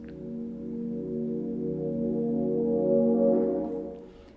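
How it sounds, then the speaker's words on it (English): A sustained, warm Rhodes electric-piano chord played in reverse, swelling gradually louder and then cutting off with a soft fade at the end. "this is actually a reverse chord"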